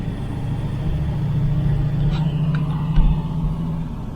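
A 1970 Camaro project car on the move, steady low engine drone and road rumble from inside the cabin, with a few faint clunks and a brief bump.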